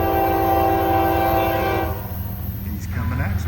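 A Norfolk Southern intermodal freight train sounds a loud, sustained horn blast close by for about two seconds, then the horn cuts off and the rumble of the passing train carries on.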